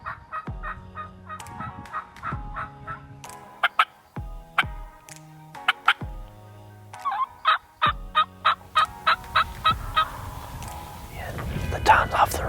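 Wild turkey toms gobble repeatedly in rapid bursts off the roost about 150 to 200 yards away during a spring turkey hunt, with soft whispered talk nearby between the calls.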